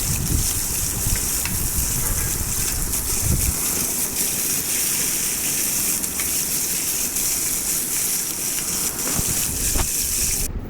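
Fish frying in a pan gives off a continuous hissing sizzle with a bright, airy crackle, steady and fairly loud throughout, with no voices.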